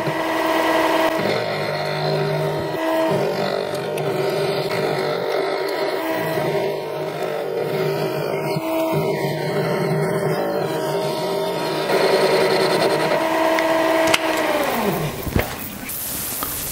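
A lathe machines the flywheel for a steampunk Stirling engine, its spindle whining with a steady tonal hum under gentle cutting, then winding down and stopping near the end.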